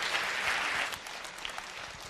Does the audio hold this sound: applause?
yes